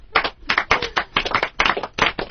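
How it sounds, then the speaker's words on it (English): A slow clap on a talk radio show, with single hand claps spaced roughly every quarter second, a steady unhurried rhythm of close, fairly loud claps. "The slow clap."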